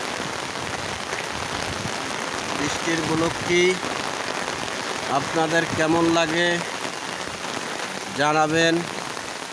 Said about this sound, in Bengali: দেখেন বৃষ্টির গোলকটি